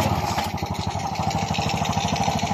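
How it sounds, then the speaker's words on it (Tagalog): A Honda XRM 125 motorcycle engine, freshly reassembled after heavy smoke trouble, runs steadily at close range with a fast, even putter and no talking. "Marinig natin ang tunog ng kanyang makina."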